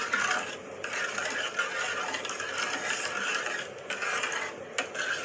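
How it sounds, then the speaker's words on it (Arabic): Cream and butter being stirred together in a baking tray, a steady close scraping and clinking of a utensil against the tray with brief pauses and no talking. "وبعدين هقلب الكلام ده كله في بعضه"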